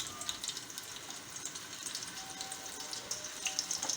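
Oil and a spoonful of butter sizzle in a pan for a potato and pea bharta, a soft, steady crackling hiss with scattered tiny pops, moderately quiet and close.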